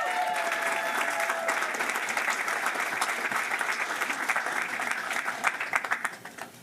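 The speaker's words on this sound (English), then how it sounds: "Can we give them a roaring round of applause as well?" An audience at an Ed.D. educational leadership graduation recognition ceremony applauds with sustained dense clapping that thins out toward the end into a few louder scattered claps.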